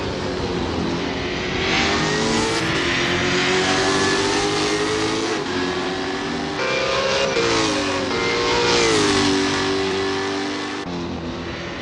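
A V8 Supercar engine in the Assetto Corsa racing game at Albert Park Circuit revs loud and continuously, its pitch climbing and dropping through gear changes for about twelve seconds with no talk.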